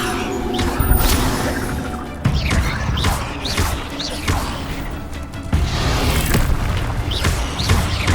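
Levioso spell effects in the Hogwarts Legacy video game: a series of heavy booming impacts and crashing whooshes arriving every second or two over dense, continuous game ambience.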